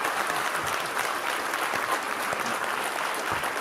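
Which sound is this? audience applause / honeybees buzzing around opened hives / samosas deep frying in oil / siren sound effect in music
audience applause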